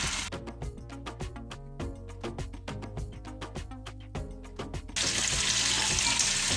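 Shami kebabs frying in hot oil in a pan, a steady close crackling sizzle with repeated sharp pops that swells into a dense hiss near the end, with no talking.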